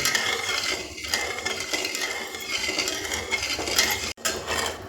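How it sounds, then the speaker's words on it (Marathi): Sugar syrup for peanut barfi stirred steadily in a pan, a dense continuous scraping and bubbling with a brief dropout near the end. "पाक आपल्याला सारखा हलवायचा आहे"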